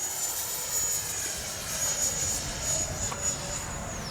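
A Freewing 90mm Zeus RC jet flies overhead, its steady high-pitched ducted-fan whine holding at moderate distance with a thin sustained tone and gentle swells as it passes, no talk.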